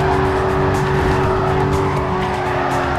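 A race car in Need for Speed Carbon revs hard and accelerates, a loud steady engine roar with tire squeal, filling the whole moment with no talk.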